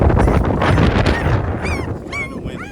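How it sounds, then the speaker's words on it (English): Gusty wind buffets the microphone outdoors while a puppy is bathed outside, a loud rumbling roar with a few faint high whimpers near the end and no talk. "It's kind of windy"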